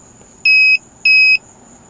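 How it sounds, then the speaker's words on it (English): A KONNWEI OBDII scan tool and battery tester gives two identical short electronic beeps, loud and clean, over a faint background hum. "it will continue to beep every now and again"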